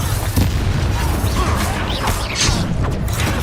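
The Bombarda explosion spell from the Hogwarts Legacy video game goes off in loud booming bursts, followed by creaking, rumbling debris and mechanical clatter.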